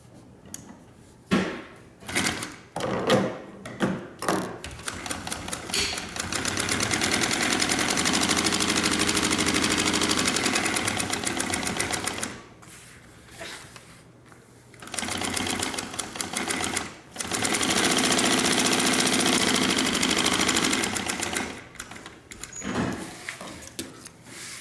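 A sewing machine stitches a pocket for a homemade backpack, running in long steady whirring bursts broken by short pauses and some clicks of handling, close and fairly loud with no talking.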